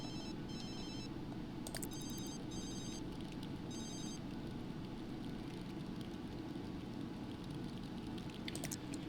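In The Sims 3 a mobile phone rings in short repeated electronic bursts, with a couple of brief clicks, then falls silent while a steady low ambient drone continues underneath.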